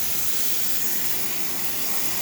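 A Zacconi espresso machine, freshly serviced and rewired, lets out a steady, even hiss of steam from its wand, continuous and fairly loud with no voices over it.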